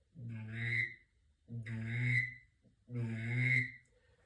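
Someone blows a duck call whistle in three evenly spaced, fairly loud whistles, each a drawn-out, wavering tone with a breathy edge.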